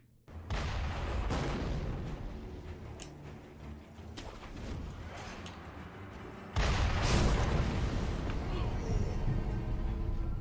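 Mortar fire in a video game comes as deep booms and blasts over a continuous loud battle din, with a heavier burst partway through, while someone talks over it.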